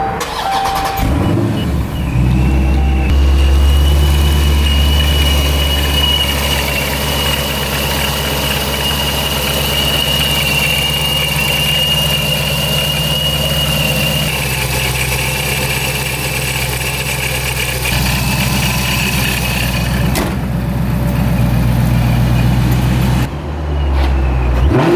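A supercharged Scat Pack V8 cranks and fires up with a loud burst, then settles into a steady, deep rumbling idle that holds for about twenty seconds before a brief dip and recovery near the end.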